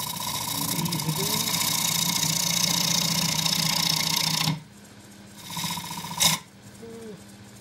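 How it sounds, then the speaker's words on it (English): A 3/8 deep-fluted bowl gouge trues up the inside of a distorted loquat bowl spinning on a wood lathe: a steady whirring, rasping cut that drops to a quieter hum with brief bursts, while someone talks. "I just true up the inside as well, 3/8 deep clean bowl gouge"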